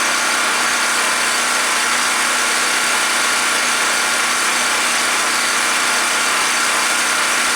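A WEN 4050 generator with a new carburetor runs under an electrical load of about a thousand watts, a loud, steady engine drone that holds even and continuous throughout with no voices.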